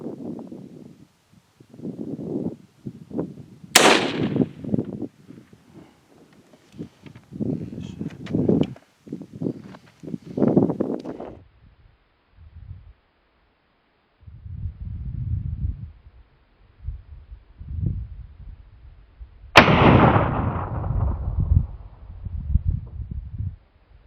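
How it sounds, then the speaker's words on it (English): Two sharp rifle reports from a .22-250 or .204 Ruger fired at a 300-yard target outdoors, each a loud crack with a short decaying tail, separated by about fifteen seconds of rustling and handling noise. "Shooting at a distance of 300 yards, it's either a 22-250 or a 204 Ruger."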